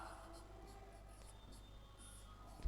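Chalk or marker scratching across a classroom board in short strokes, close and continuous, with a teacher's voice faintly underneath.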